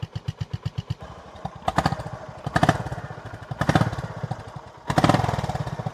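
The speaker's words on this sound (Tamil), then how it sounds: "இது வந்து சைலன்சரில் அவங்க பண்ணியிருக்க பீட்" A Honda H'ness CB350 with a J-series engine idling, its silencer putting out a deep, evenly spaced thumping exhaust beat, broken by several louder throttle blips that swell and fall back, close and loud.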